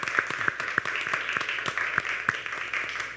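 Audience applause at a panel discussion on teaching true history in schools: sparse, fairly distinct hand claps repeating in an uneven rhythm for a few seconds, at moderate level.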